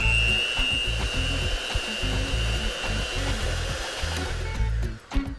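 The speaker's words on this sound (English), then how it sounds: "just blend this up with a hand mixer, make sure we've got it all really well incorporated" A hand mixer whirs steadily while blending almond butter, a loud continuous close motor hum that dips briefly near the end.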